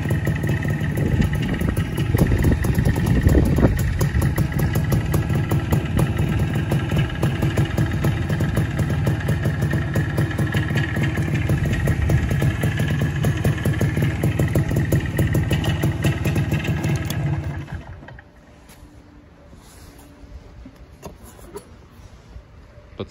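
A Minsk Voskhod motorcycle engine idles with a steady, fast putter for about seventeen seconds, loud and close, then cuts off abruptly, leaving quiet background.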